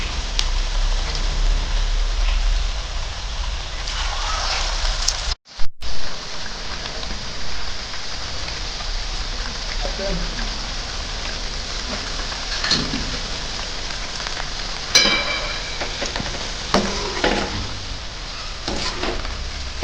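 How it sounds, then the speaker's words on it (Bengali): Jackfruit and egg pakoras fry in hot oil with a steady, dense sizzle that runs throughout, broken by a brief cut near the start and a few louder crackles later on. "আমাদের পকোড়াটা ভাজা হয়ে গেছে, দেখেন আমি পাতানি করে ভেজে নিয়েছি।"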